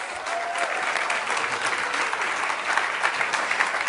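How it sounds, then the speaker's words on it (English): A conference audience at a thought leaders showcase gives a steady round of applause, dense continuous clapping that stays at an even, moderately loud level throughout. "Round of applause for Dan Gregory."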